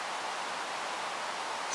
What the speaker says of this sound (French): le bruit blanc fait un de ces bruits